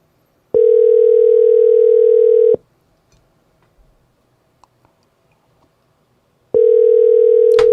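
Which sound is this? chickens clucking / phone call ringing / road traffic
phone call ringing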